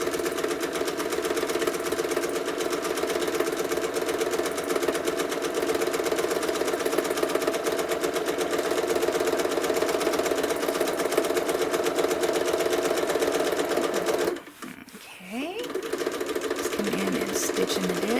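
Sewing machine quilting a stitch-in-the-ditch seam, a steady fast mechanical hum and rapid needle chatter running continuously, briefly pausing near the end, close and fairly quiet.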